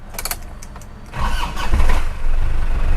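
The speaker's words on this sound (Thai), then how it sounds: "ลองสตาร์ทฟังเสียงเครื่องยนต์เนาะ" An Isuzu Grand Adventure 3.0 turbo diesel with manual gearbox cranks briefly after a few clicks, catches and settles into a loud, steady, rumbling idle close by.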